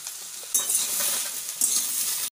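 Onion and green chilli frying with taro stolons in a pan: a loud, continuous close-up sizzle that swells twice as the pan is stirred, then cuts off abruptly, with no voices.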